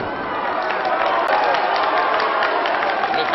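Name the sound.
wrestling audience applauding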